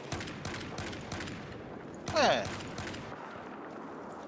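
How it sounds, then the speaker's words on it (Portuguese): Rapid gunfire bursts from the video game Battlefield 4 in Gun Master mode, fairly faint and distant, with one brief louder burst midway and a short spoken interjection. "levei tiro nas costas"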